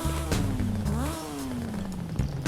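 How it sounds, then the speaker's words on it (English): A motorbike engine swapped into a 1965 Toyota Sports 800 in Forza Horizon 5 revs up close and loud, its buzzing pitch climbing quickly, then sagging in one long, steady glide before picking up again. "You can put a motorbike engine in this car."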